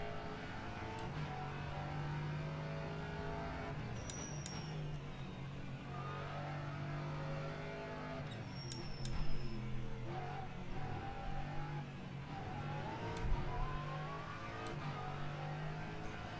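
An LMP3 race car in the rFactor 2 racing game drives a warm-up lap, its engine droning steadily with a low hum. The revs rise and fall with occasional gear shifts, and there is no talking.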